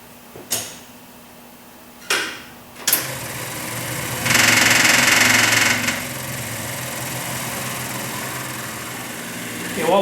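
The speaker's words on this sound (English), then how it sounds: "turn on the fuel pumps in the generator" Electric fuel pumps run with a steady buzzing hum in a military surplus generator being repaired after years of sitting, with a few sharp clicks and a louder whirring stretch midway.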